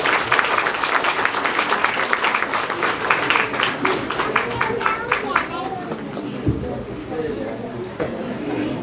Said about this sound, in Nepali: ताली बजाएर हामी सहभागी।